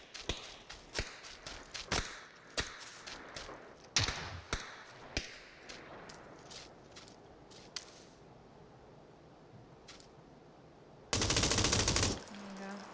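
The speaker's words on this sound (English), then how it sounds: "Shooting someone up the hill." M249 light machine gun fire in PUBG, shooting at an enemy up a hill: sharp bursts and single cracks repeat irregularly, loud and close, with sparser shots later and a brief noisy blast near the end.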